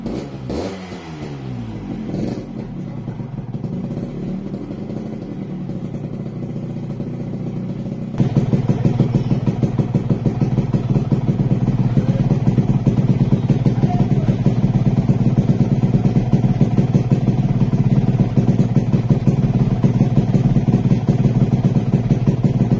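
A Yamaha RX 100 two-stroke motorcycle engine running, loud and close, with a rapid rattly idle that steps up to a harder, busier beat partway through and keeps going without pause.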